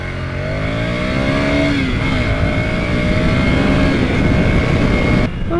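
A 2021 Ducati Scrambler Desert Sled motorcycle accelerates hard on a road, its engine note climbing through the gears with a short dip at a gear change, loud and close.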